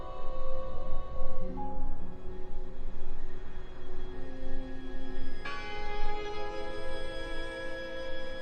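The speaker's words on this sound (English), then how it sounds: "I heard the bell!" A church bell tolls in the horror game Draugen, its sustained metallic tones layered and ringing steadily, with a fresh strike partway through, over a constant background rumble.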